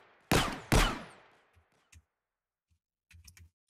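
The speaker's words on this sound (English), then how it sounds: "we can shoot with this pistol like this" Two sharp pistol shots fired close together in an Unreal Engine 5 combat framework video game, loud and near, followed by a few faint clicks and a soft cluster of small taps.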